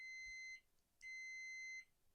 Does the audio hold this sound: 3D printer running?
no